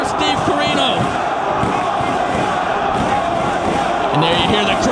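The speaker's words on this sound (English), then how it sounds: "And there you hear the crowd there behind Homicide" Wrestling crowd in an arena, loud continuous roaring and chanting with scattered shouts and thuds, dense and steady throughout the clip.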